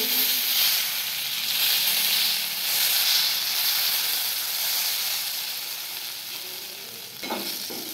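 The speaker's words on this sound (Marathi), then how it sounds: "एकदा असं आलटं पलटून घ्यायचे आपल्याला. आपले मिरची भाजले गेले चांगले." Stuffed green chillies frying in a pan, a steady close sizzle and hiss of hot oil with a few faint clinks of turning toward the end, no talk.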